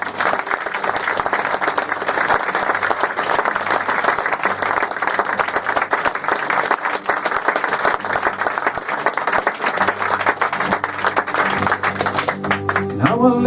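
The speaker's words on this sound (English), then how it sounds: "Give them another big round of applause." Loud, dense applause from a live concert audience for a folk performer, with steady clapping filling the whole stretch and a little cheering mixed in.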